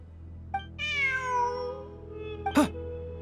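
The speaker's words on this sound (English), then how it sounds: "Look, a cat." Cat meowing in a video game, one drawn-out, clear mew with a falling pitch, followed by a short sharp click or chirp, over a low steady background hum.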